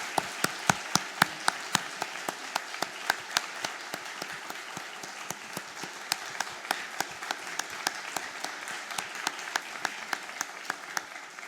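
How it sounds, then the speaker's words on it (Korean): A church congregation at an Easter service applauding, a steady, even patter of many hands clapping at a moderate distance throughout. "우리 박수하겠습니다."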